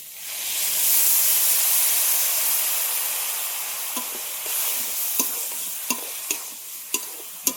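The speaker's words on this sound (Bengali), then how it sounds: "হলুদ গুঁড়ো জিরের গুঁড়ো কাঁচা লঙ্কা কুচি সামান্য একটু জল দিয়ে ভালো করে কষিয়ে নেব" Turmeric, cumin and chopped green chilli masala with a splash of water being stirred and sautéed in a pan for Bengali ghugni, a soft steady sizzle with spoon scrapes and taps growing more distinct toward the end.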